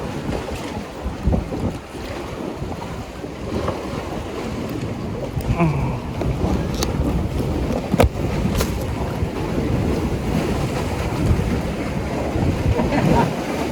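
Strong sea waves surge and splash against a fishing pier at Na Kluea, Pattaya, under heavy wind buffeting the microphone, with a continuous loud roar and occasional sharper slaps.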